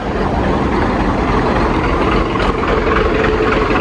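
A Honda Activa scooter engine idles steadily nearby, a continuous loud rumbling drone with no breaks.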